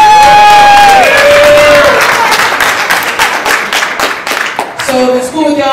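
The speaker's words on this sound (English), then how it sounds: "Let's give them a round of applause." Wedding reception guests clap and cheer loudly, a close, lively burst of applause with whoops and shouts that swells then thins, overlapping a brief tonal sound at the start.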